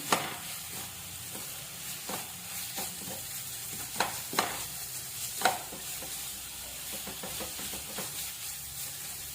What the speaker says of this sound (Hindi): उसे भी आप अच्छे से मिक्स कर लीजिए इसमें